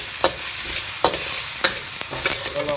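Chicken stir-frying for Thai-style crispy noodles with a splash of Chinese cooking wine, a steady loud sizzle broken by sharp periodic scrapes and clacks of a spatula against the wok, no voices.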